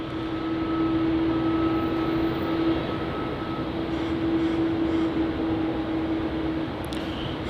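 A heavy airliner rolling on runway 34 at Melbourne Airport after landing, a steady, distant jet roar with a sustained whining tone that lasts throughout at moderate level.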